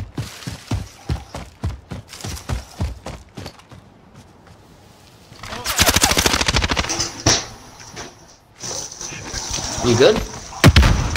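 Rapid gunfire in an online shooter game, bursts of shots and quick impacts starting sparse then turning dense and loud, heard under casual talk between players.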